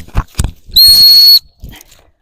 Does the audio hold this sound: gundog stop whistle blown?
yes